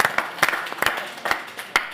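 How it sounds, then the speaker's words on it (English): A live audience at a youth community event gives a round of applause, with a handful of sharp, separate claps spread across the moment, sounding near and moderately loud but thin rather than a full ovation. "So let's get a big round of applause for that."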